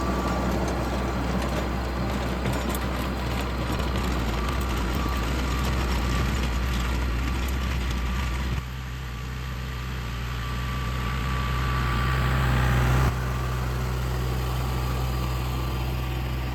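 A hydrostatic compact tractor engine runs steadily with a tiller on plowed ground, a loud continuous drone and mechanical rumble that shifts in tone partway through, then rises slightly before easing.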